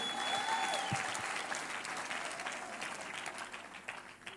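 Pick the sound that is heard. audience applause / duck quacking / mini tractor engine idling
audience applause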